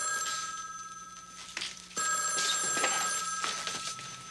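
An old telephone rings in repeated electronic bursts, each ring starting sharply and then trailing off, loud and close in a quiet interior.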